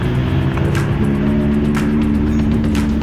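A car overtakes another vehicle on a rough, overcast road between Cipanas and Sukabumi via Cugenang, with a steady loud engine hum and road roar throughout and brief swells as traffic passes close by.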